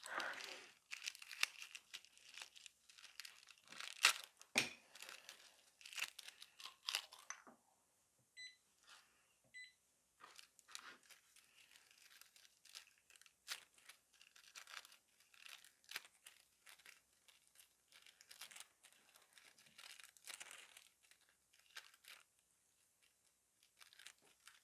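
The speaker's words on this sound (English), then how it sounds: "I'm just gonna grab the gold transfer foil" Gold nail transfer foil handled and crinkled close up during nail art, a rapid series of faint, crisp rustles and crackles that come and go throughout, quiet and without talk.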